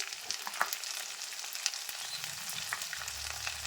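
Leftover-rice pakoras deep-frying in oil, a dense continuous hiss and sizzle with occasional stirring pops, close and steady, no talking.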